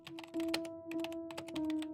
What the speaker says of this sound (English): The audible sound of a keyboard's clickety-clack indicated a fellow colleague had the same fate as him that night